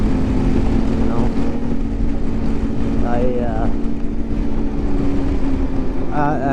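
A 2020 Polaris Indy XC 129 snowmobile drones steadily along a snowy trail, its engine a constant loud hum with wind buffeting the microphone, as someone talks over it.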